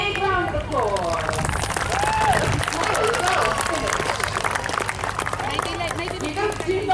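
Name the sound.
audience applause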